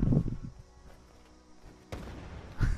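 A grenade bursts in midair in the video game Fallout 76, a sharp blast at the start, then a quieter stretch before a second burst and a closing crack.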